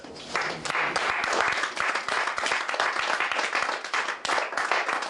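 A church congregation applauds in loud, dense, sustained clapping with a few louder individual claps standing out, filling the space with no speech.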